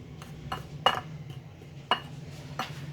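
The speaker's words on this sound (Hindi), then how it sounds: "अब इसको किसी चम्मच के साथ मिक्स कर लेंगे" A spoon clinks against a bowl while chicken burger coating seasoned with salt and red chili is mixed, giving a few light, scattered metallic taps over a quiet background.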